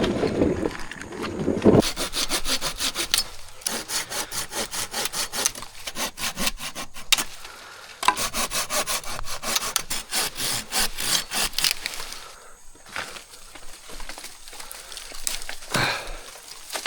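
A handsaw cuts through wood in steady back-and-forth strokes, close and rasping, with brief pauses between runs of sawing.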